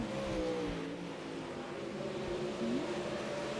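A Pro Late Model race car engine at Eldora Speedway drones at a distance, its pitch rising and falling as it works through the track amid a wash of crowd and track noise.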